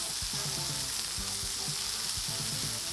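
Flank steak fries in a pan with butter just added, producing a loud, dense, continuous sizzle and spatter, with faint low clinks beneath and no speech.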